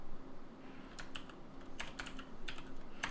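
Keys on a computer keyboard are tapped in short irregular bursts of crisp clicks over faint room hum, close and with no talk.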